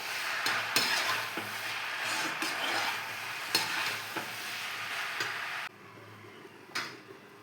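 Chickpea and pumpkin curry with vegetable masala and chilli being stirred in a pan, a steady soft sizzle with scattered scraping and clinking taps of the spoon against the pan, quieter toward the end.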